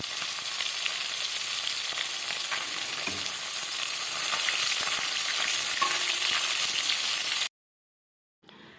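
Bhola fish fries in a pan, a steady close sizzle and hiss of oil that runs unbroken, with a few faint stirring knocks, then stops abruptly.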